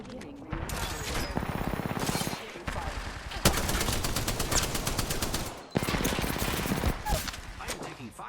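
Automatic gunfire bursts in Apex Legends, several loud sustained fusillades broken by short gaps, near and dominant throughout.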